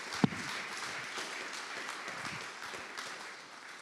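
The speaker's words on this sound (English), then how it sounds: "Can we have a round of applause for our students?" Students at a manufacturing and engineering institute's relaunch celebration receive applause from the audience, a steady, soft wash of clapping heard from a distance, with one sharp knock near the start.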